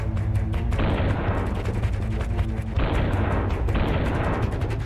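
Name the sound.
artillery shell fire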